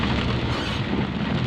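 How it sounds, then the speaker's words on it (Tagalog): Heavy rain pouring during a road trip in Manila, a dense, continuous hiss and roar that stays loud and even throughout, with no speech. "sobrang lakas ng ulan"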